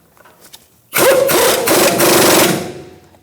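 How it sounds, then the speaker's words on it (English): A 21mm wrench and socket tighten the strut-to-knuckle bolt on a 2008-2013 Nissan Rogue during front CV axle replacement, giving a loud close buzzing whir that lasts about a second and a half after a quiet start. "we're going to tighten our strut to knuckle, so 21mm wrench and socket"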